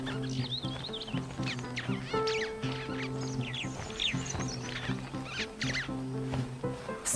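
A flock of gregarious birds squabbling while foraging in the dry-season Luangwa Valley of Zambia, with a dense, continuous chorus of overlapping harsh calls and chatter, loud and near throughout.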